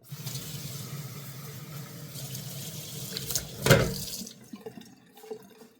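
Running tap water pours steadily into a sink to rinse an espresso cup, with a sharp splash and clink midway before the flow tapers off into scattered drips and small knocks.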